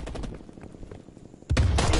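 AK-47 rifle fire in a shooter video game: scattered rapid shots early, a brief lull, then a loud burst of sustained automatic fire close up.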